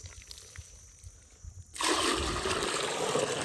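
Water poured out in a sudden steady splashing rush for buffalo to drink outdoors, starting midway after quiet with faint background noise and continuing loud to the end.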